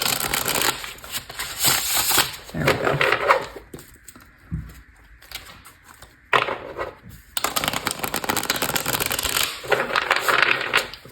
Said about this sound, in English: I need to shuffle these cards the other way because they're getting